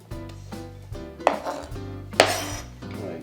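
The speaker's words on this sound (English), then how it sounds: "I'm going to put them back onto the plate." Julienned peppers being moved back onto a plate, with several clattering knocks of utensil against the plate, two sharper clinks standing out among lighter taps and scrapes, no talk.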